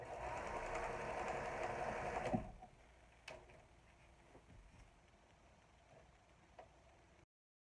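A sewing machine stitches ribbon onto a fabric baby nest, running loudly and steadily for a couple of seconds before stopping, followed by a few faint clicks and taps.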